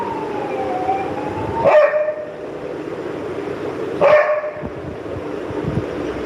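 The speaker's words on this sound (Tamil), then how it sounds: "ஒரு நாய் இருக்கு" A dog barks twice, a few seconds apart, over a steady background hum with a faint wavering tone.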